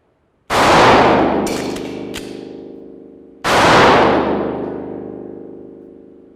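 Two loud pistol shots, about three seconds apart, fired on a shooting drill. Each sharp crack is followed by a long, ringing, metallic decay, with no voices.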